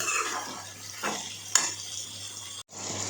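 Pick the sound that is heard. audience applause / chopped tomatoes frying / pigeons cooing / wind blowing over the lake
chopped tomatoes frying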